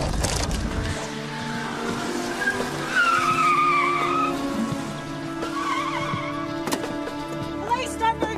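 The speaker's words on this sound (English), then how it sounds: "There's a vehicle leaving the target address now." A car pulls away from a house during a police operation, tires skidding and squealing across several seconds, its engine rising and falling at moderate distance, with brief voices mixed in.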